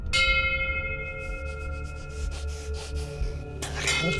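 A holy bell of Saint Francis from an exorcism horror film rings out, its sustained metallic tones lingering over a low rumbling score, with a brighter swell of sound rising near the end.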